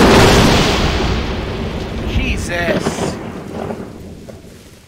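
A loud thunderclap from a lightning strike in a Bigfoot-hunting video game rolls out as a broad rumbling roar that slowly fades over several seconds amid rain-like noise.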